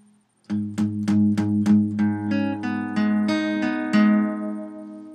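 Guitar playing a riff, a string of sharply picked ringing notes, the first few short and evenly spaced, then longer sustained chord tones, close and clear with no talk.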